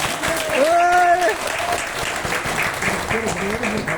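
A talk audience breaks into dense, sustained clapping that fills the room, with a voice briefly rising above the applause early on.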